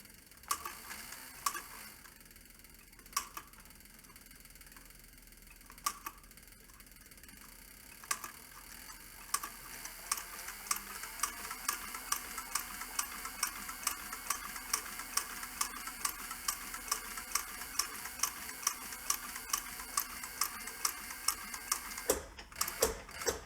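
A sewing machine stitches through a leather clutch purse, faint scattered clicks at first, then a steady quick run of regular ticking stitches, ending with a few sharper mechanical clicks.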